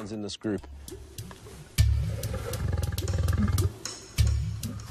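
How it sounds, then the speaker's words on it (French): White lions fighting violently within their pride, giving loud, close, deep roars and snarls that build into a long sustained bout of growling and end in a final burst. "il se bat violemment avec les autres lions de cette troupe"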